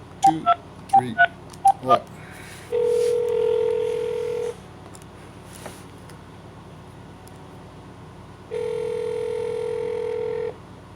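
Telephone keypad tones from a number being dialed: a quick run of about six short DTMF beeps, then two longer steady tone bursts with a pause between, clear and close over a quiet line.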